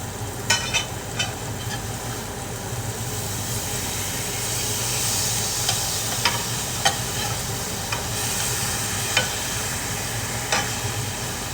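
Meat sizzles in a frying pan with a steady, close crackle and hiss, with occasional sharper pops and scrapes above the constant sizzle.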